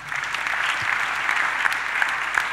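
A church congregation applauds during worship, steady dense clapping from a crowd filling the whole moment at a fairly even level.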